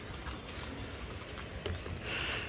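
Pigeons released from a loft to fly; faint cooing and bird calls sit in a steady outdoor hiss, distant and low.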